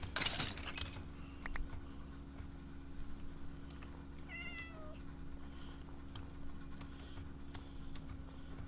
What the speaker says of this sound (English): Oh, there's a little cat.